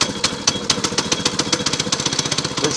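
A small sawmill engine sputters to life after the fuel is switched on and the choke set, firing in rapid, even pulses close by, with no voices.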